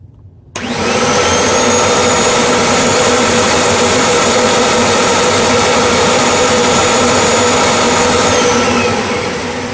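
A Kirby G3 vacuum cleaner switches on after a brief quiet moment and then runs loud and steady with a constant whining motor roar during a suction test, tapering off slightly at the very end.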